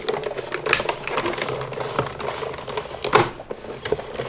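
A hand-cranked die cutting machine, used for making a herringbone card from scraps, runs through with a dense, irregular mechanical clicking and ratcheting, fairly close and loud, including one sharper clack near the end.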